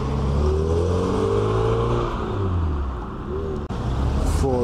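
A Volkswagen Golf Mark II revs at a car meet at Llynclys farm shop, its engine note climbing and falling in loud sweeps with a short dip and a sharp click near the end.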